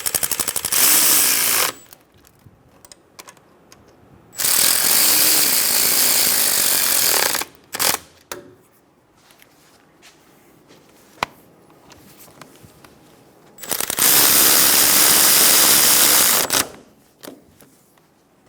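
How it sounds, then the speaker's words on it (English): Impact tool snugging the wheel bearing bolts on a 2014-2018 Chevrolet Silverado front hub: three loud bursts of rapid hammering, each lasting a couple of seconds, separated by quiet pauses with small clicks. "Snug the wheel bearing bolts down."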